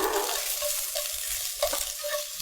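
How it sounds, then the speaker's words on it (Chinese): Dried chili peppers stir-fried in a wok with aromatics, a steady bright crackling sizzle with scraping stir strokes, close and continuous, for Shanghai smoked fish. "依序给它爆香一下。"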